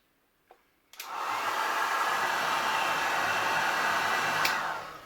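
After a click, a hair dryer blows with a steady, close rushing whoosh for several seconds, then clicks off.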